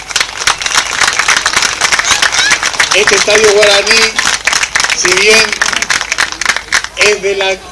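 Applause from the crowd at the opening of the Guaraní stadium of Deportivo Paraguayo in González Catán, a steady wash of clapping running the whole time beneath someone speaking over a loudspeaker.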